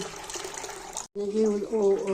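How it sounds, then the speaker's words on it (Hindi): Water is poured into a pot of chana dal ahead of boiling, a close rushing splash that cuts off briefly and then resumes as someone speaks over it. "ये चने की दाल, इसमें पानी डाली मैं इसे उबालने लगी।"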